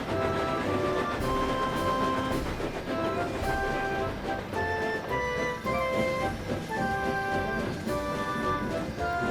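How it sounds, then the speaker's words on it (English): A supplies train rolls along steadily in an animated railway story, its rhythmic clatter continuing under bright background music the whole time. "One afternoon, Donald took a supplies train to the works."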